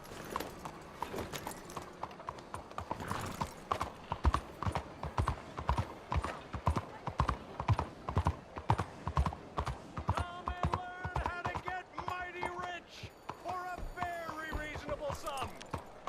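A horse gallops in Red Dead Redemption 2 with rapid, steady hoofbeats throughout, while a voice talks over part of it.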